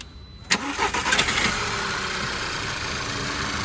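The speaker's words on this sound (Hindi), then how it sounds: "स्टार्ट कर दो राजा बाबू" A Skoda Superb with an overheating problem cranks briefly, catches with a sharp burst and settles into a steady, even idle that continues to the end, close by with no talking.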